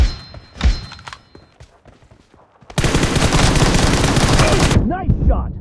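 Automatic gunfire in the PUBG Mobile battle royale game: a few scattered thumps, then a dense, loud, sustained burst of rapid shots lasting about two seconds, followed by brief faint game sounds.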